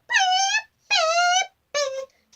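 A voice imitates a supercar engine with three rising, revving wails, two long and one shorter, loud and close with brief silences between them.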